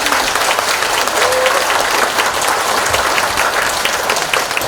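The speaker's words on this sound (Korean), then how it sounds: "큰 박수 부탁드립니다" Sustained audience applause fills the hall at a residents' council founding ceremony for a redevelopment project, a dense, steady wash of many hands clapping, loud and continuous throughout with faint voices mixed in.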